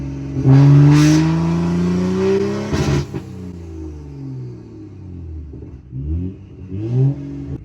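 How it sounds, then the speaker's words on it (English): A tuned BMW M235i or M240i running MHD antilag at max boost, heard from inside the car with oil at 110 degrees, revs loud and long, with a sharp crack near the midpoint before further surging revs. "The exhaust tone of Antilag with the 235 compared to the air intake sound of the 240"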